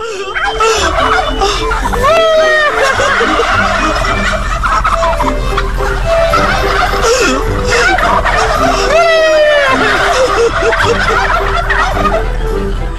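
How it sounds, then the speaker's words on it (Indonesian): A flock of chickens gobbling and cackling together in loud repeated bursts, rising and falling over continuous background noise, no talking. "ayam-ayam ini spontan tertawa bersama-sama."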